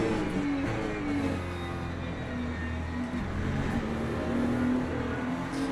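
Ferrari LMGT3 race car engine in Le Mans Ultimate, lapping Interlagos: a steady, droning engine note that rises and falls gently in pitch as it holds revs, continuous and close, with no voices.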